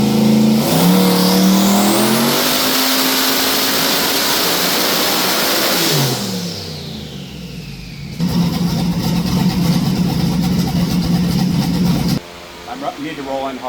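A twin-turbo LS engine in a Trans Am revs hard on a dyno, loud and continuous with rising and falling pitch, a sharp drop near the middle, then a steady high-rpm hold before cutting back; voices are heard over it.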